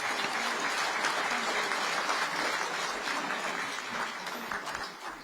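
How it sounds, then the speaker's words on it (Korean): Sustained, dense applause from an audience at a Korean independence commemoration ceremony, greeting a guest speaker; loud and even throughout, tapering slightly at the end. "박수로 맞아주시기 바랍니다"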